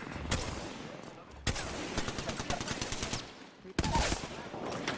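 Bursts of automatic gunfire in an Apex Legends match played as Wraith, sharp cracks and rapid rattling volleys mixed with game effects and a voice talking over the top.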